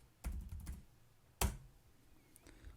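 Computer keyboard keys clatter as a build command is typed into a terminal, a quick cluster of close keystrokes followed by one louder lone press and a faint later tap, with quiet between.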